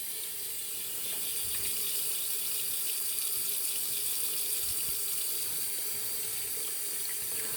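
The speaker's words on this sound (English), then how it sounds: "Rinse off my hands." Water from a tap pours into a sink as soap is rinsed off hands, a steady close splashing stream that continues throughout with no voices.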